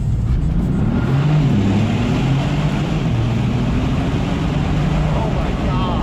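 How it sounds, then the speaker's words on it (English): A 2025 Bentley Continental GT Speed engine in sport mode rumbles loudly and steadily inside a tunnel, its low drone blending with heavy wind noise throughout. "we're going to switch it back into sport, which turns the motor on"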